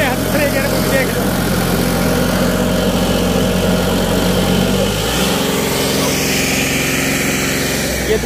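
A New Holland 3630 tractor engine runs loud and close while the tractor moves in second gear. The steady, droning diesel rumble carries on throughout, with a slight shift in tone partway through, and someone talks over it.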